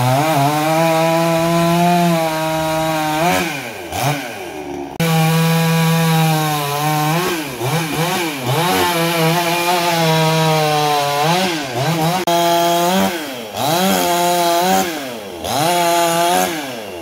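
A Mogilev BM 5.5 petrol chainsaw cuts through wood, its engine rising and falling in pitch through repeated cuts, loud and close, with no voices.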